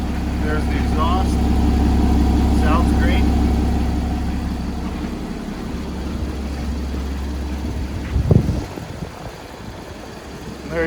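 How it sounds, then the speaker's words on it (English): A 2014 Porsche Boxster in dark metallic blue with a six-speed manual idles close by, its steady low exhaust rumble filling the first half before easing off, with someone talking briefly over it. "And there's the exhaust."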